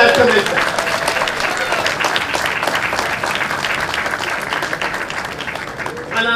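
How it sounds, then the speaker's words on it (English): A large crowd at the launch of a union job training center applauds loudly and steadily for several seconds, a dense wash of clapping that tapers slightly at the end. "So let's give her a hand for that commitment."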